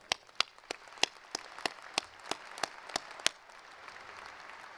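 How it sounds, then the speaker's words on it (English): Sparse, evenly spaced claps at a university spring commencement ceremony, about a dozen sharp hits in steady rhythm that stop partway, leaving quiet room ambience. "let's give all of our honored guests a round of applause"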